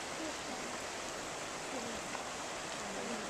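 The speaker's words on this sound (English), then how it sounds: "It's a nice creek." A creek by a campground overflow area flows with a faint, steady, even wash of water noise that never changes across the short stretch.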